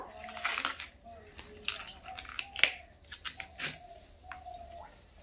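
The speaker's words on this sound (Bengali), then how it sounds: "বন্ধুরা এখন আমি বাঁধাকপিটা কেটে নেব।" A knife slices through a head of cabbage in a home kitchen, giving a run of crisp, crunchy cuts and leafy crackles at close range, with a voice talking in between.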